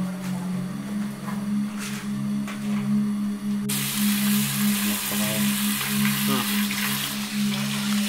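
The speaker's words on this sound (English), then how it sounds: "Warming up the olive oil here. I mean, I keep on calling it olive oil, but it's the peanut seeds oil." Peanut oil heating in a pan for a Sicilian swordfish pasta gives a steady, continuous sizzle with a low hum beneath it, growing brighter and more crackly partway through and holding there to the end.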